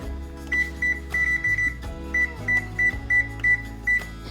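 An oven's control panel beeps while being set to preheat to 450 degrees, giving a string of short, clear electronic beeps, some in quick pairs and runs, close by over a low kitchen hum.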